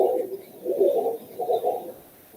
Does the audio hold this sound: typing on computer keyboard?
no